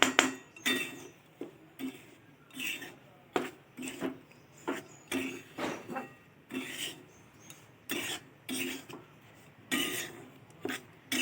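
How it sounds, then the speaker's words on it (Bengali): Shells being stirred and fried in a pan, repeated scraping and rasping strokes in a steady rhythm, close and fairly loud, with no talking. "আর কিছুক্ষণ এতে নাড়াচাড়া করলেই খোলটা একদম তৈরি হয়ে যাবে"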